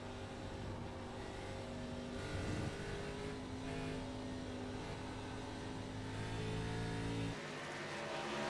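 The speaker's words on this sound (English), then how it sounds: "you can hear how ginger he's got to be on the throttle getting up through those S's" A race car works its way up through the S's at Watkins Glen, the engine held at a steady high drone with careful throttle, dipping and swelling slightly, loud and close with no talk.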